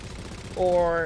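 Warthog turret firing in Halo 4 multiplayer, a short burst of rapid gunfire rising midway under a voice talking.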